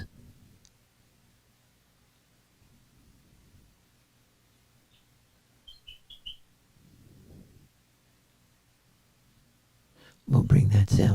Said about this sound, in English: A chirping bird.